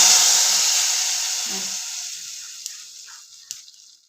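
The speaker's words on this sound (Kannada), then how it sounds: "ಇವಾಗ ಒಗ್ಗರಣೆನ ನಮ್ಮ ಸಾಂಬಾರಿಗೆ ಹಾಕ್ತೀನಿ" A loud burst of sizzling as a hot oil tempering is poured into beetroot sambar, the hiss fading steadily over a few seconds with a couple of small clicks.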